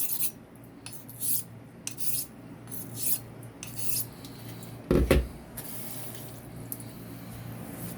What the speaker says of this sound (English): Just going to cut a quick bevel in on this gold dollar.